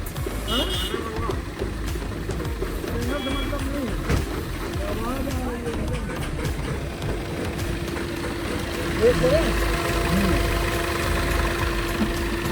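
A faulty Dzire car engine that won't pick up hums and knocks steadily at idle while someone talks over it.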